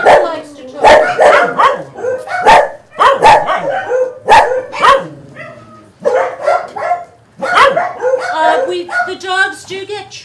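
Several dogs barking excitedly in a group, loud close yips and barks in quick bursts with short pauses, some whining mixed in, and no talk.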